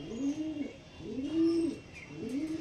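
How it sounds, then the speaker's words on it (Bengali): Three loud, close coos from Black Diamond pigeons, each a rolling, bubbling phrase spaced about a second apart, stand out clearly against a quiet background. "একদম রেডি পায়রা, পুরো রেডি পায়রা,"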